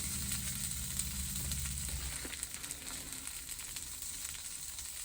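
A tortilla cooks in a pan for a cheesy black bean and corn quesadilla, making a soft, even sizzle with a low hum fading early on, quiet and without speech.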